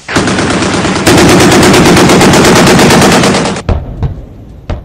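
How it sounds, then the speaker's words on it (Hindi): Sustained rapid automatic gunfire, loud and close, rattling continuously for several seconds before breaking into a few separate bursts. "दनादन निकलती गोलियां"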